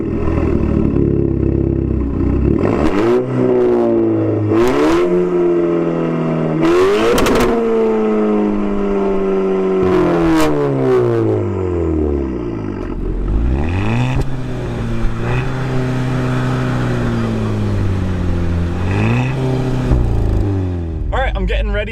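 A Volkswagen GTI with a DSG gearbox accelerating hard from 0 to 60, engine pitch climbing steeply and dropping sharply at each quick gear change, loud and close from inside the car, with people talking over it.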